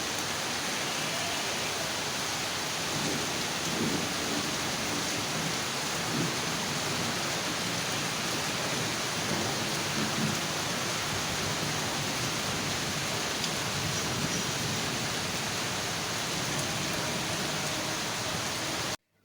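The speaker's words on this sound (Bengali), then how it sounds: "বাইরে গুড়ি গুড়ি বৃষ্টি পড়ছে" Light drizzle falls outside, a soft, even hiss of fine rain that holds steady and fairly faint throughout, with no voices.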